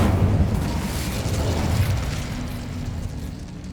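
Incendio fire spell cast in Hogwarts Legacy, a loud, dense whooshing burst of flame with a low rumbling roar that slowly fades over a few seconds.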